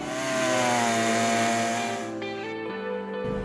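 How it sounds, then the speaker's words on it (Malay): A power saw cutting a wooden block to size for a woodcraft, its motor whining steadily and loud, then shifting in pitch as the cut finishes and winding down near the end, with no voices. "dengan mesin gergaji, tidak lagi menggunakan kapak seperti dahulu"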